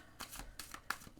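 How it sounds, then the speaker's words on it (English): A deck of tarot cards being shuffled briefly, several quick close riffling bursts in a quiet room. "I'm not gonna shuffle that much because I've done some pre-shuffling"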